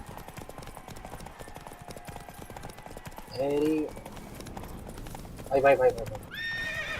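Roach, a horse in the video game The Witcher 3, gallops with steady rhythmic hoofbeats and whinnies twice. Someone talks excitedly over it.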